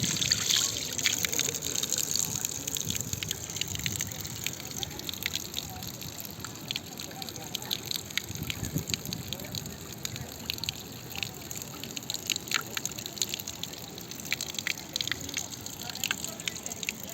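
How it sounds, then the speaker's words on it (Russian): A small stream of water trickles steadily in a shaded spot in Serbia, a soft continuous babble and dribble heard up close but fairly faint, with no talking over it. "Здесь тенечек и водичка."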